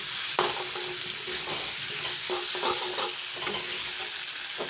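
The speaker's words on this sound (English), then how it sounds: "Fry the potatoes with the masala." Potatoes frying with masala in a pan give a loud, continuous close sizzle, broken by soft scraping stirs.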